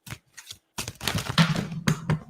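A deck of oracle cards is shuffled by hand: close, crisp rustling bursts after a short quiet start, with brief gaps between the riffles.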